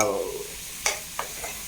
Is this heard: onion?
yes